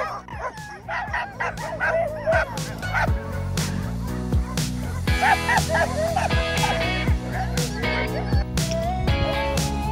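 Teams of five sled dogs at a mushing school in interior Alaska bark, yip and whine excitedly, a dense chorus of overlapping near and distant voices with sharp barks throughout.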